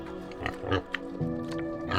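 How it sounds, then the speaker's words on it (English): A wild boar in Russia gives a short series of deep, rough grunts and snorts, close and fairly loud, with brief pauses between them. "It is better not to meet a wild boar in Russia."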